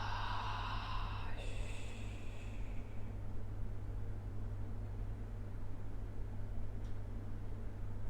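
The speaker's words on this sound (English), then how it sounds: "Take a deep inhale, filling up the belly, your lungs and your chest. And exhale from your mouth." A single deep breath is let out through the mouth as a soft, airy exhale early on, then fades into quiet room hiss.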